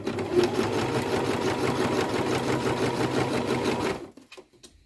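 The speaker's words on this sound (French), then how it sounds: "quand on voit que la machine elle a fait un point droit" A sewing machine runs a straight stitch in quick, even mechanical chatter, close and steady for about four seconds before stopping abruptly, leaving faint handling clicks.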